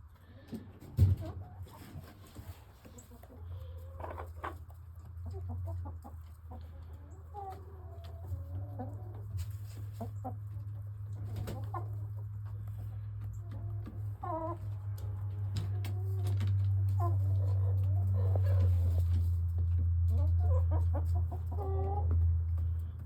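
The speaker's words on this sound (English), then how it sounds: "Pop, pop in chicken language is like, how you doing? Is everything okay? Content sound." Backyard chickens cluck and make soft, content pop-pop calls close by, scattered short notes over a low, steady hum, with occasional talk.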